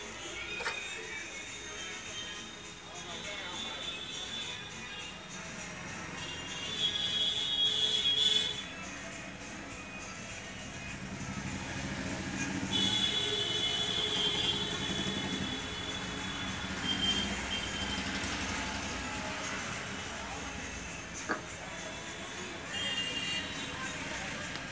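A Fucen flatlock sewing machine runs threaded with a continuous, fairly faint mechanical whir and rattle that carries on steadily throughout, with a person talking over it.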